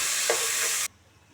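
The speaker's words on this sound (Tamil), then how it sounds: "இந்த தக்காளியையும் அந்த பூண்டு இது கார்லிக்கோட சேர்த்துறேன் சேர்த்து நல்லா கிளறி விட்டு மூடி போட்டு" Tomatoes and garlic are stirred in a hot frying pan, a close sizzle with one scrape of the spoon, cutting off abruptly after under a second.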